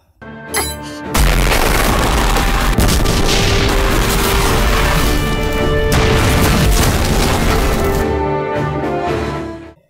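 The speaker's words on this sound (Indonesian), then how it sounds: "lalu langsung menembakkan meriamnya." A heavy cannon fires in an anime battle scene, a sharp crack followed by a massive sustained boom and rumbling blast that fills the space for several seconds before fading.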